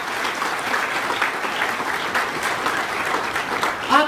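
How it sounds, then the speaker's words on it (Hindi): Loud, steady applause from an audience at a coaching institute's felicitation function, dense clapping filling the whole stretch with no break. "जोरदार तालियों के साथ हम इनको यहाँ पर शुक्रिया अदा करते हैं"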